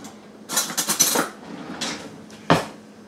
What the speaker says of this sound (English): I'm just going to take a fork and I'm going to mix this together just like that